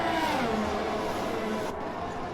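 Formula 1 cars in a video game race at the Austrian circuit overtake one another, their high engine whine sliding down in pitch as they pass, loud and continuous.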